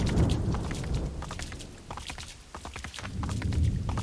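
A horse gallops in the video game Assassin's Creed 3, its hooves beating out a quick, steady clatter that runs continuously at close range with a low rumbling background.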